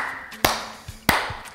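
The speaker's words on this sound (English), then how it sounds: "Let's clap again." Children clapping along in a kids' ballet lesson, two sharp claps about two-thirds of a second apart with a couple of softer taps in between, close and clear.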